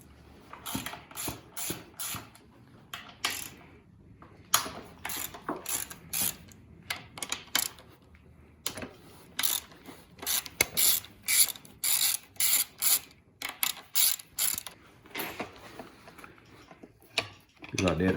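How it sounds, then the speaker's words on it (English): Ratchet wrench clicking in repeated bursts while loosening four 12mm bolts that clamp a dirt bike fork into the triple clamp, close and fairly loud, with short pauses between strokes. "Next thing you want to do is pull these 4 12mm bolts off, holds the fork into the triple tray"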